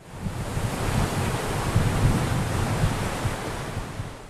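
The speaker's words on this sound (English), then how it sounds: "The waves may look inviting for a surfboarder or just some fun in the surf" Ocean surf breaks at a coastal research facility shoreline, a steady loud wash of rolling waves with low rumbling surges, mixed with wind buffeting the microphone and no voices.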